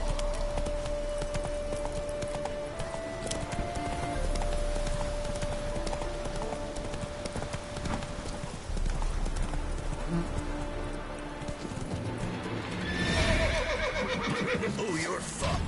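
Hooves clip-clop steadily as a horse gallops through a PS4 video game, with a whinny near the end, all under game ambience, possible rain and some talk.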